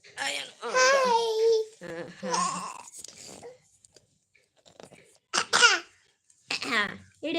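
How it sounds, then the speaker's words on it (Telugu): A young boy who has eaten lots of chocolate gives a few short coughs among babbling and laughing vocal bursts, close and indoors, with pauses between bursts. "ఎక్కువ చాక్లెట్లు తినేస్తాడండి అందుకే దగ్గుతున్నాడు"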